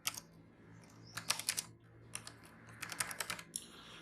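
Rapid bursts of clicking keys on a computer keyboard while text is entered, close and fairly quiet, with short pauses between clusters of keystrokes.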